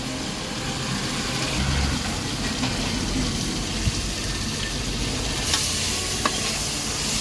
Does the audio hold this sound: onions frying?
yes